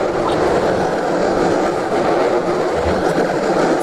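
A train rolls past on the railroad track, loud and close, a dense continuous rumble with faint rhythmic clatter from the wheels.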